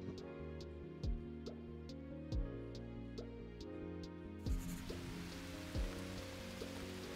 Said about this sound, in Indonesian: Oh, hujan tiba-tiba,